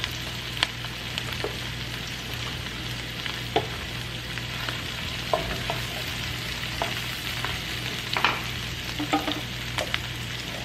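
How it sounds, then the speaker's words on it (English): Quartered mushrooms sizzle and crackle in a hot pan for low-carb risotto, with steady frying hiss punctuated by scattered pops and the occasional clink of stirring. "I'm gonna add in about a cup of mushrooms. And I just quartered them."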